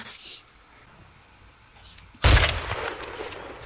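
A single loud gunshot from a video game cracks out sharply after a quiet stretch, then its echo and rumble trail off.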